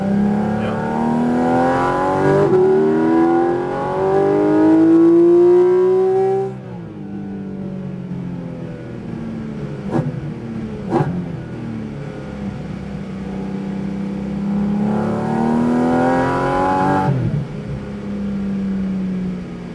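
Porsche Cayman GT4 RS flat-six engine revving on downshifts at Superspeed Orlando, a loud rising and falling roar with sharp blips partway through and another climbing rev near the end.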